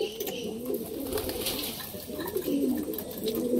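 Several pigeons pecking at paddy grain keep up a rolling, throaty cooing nearby, steady and layered throughout, with a faint voice now and then in the background.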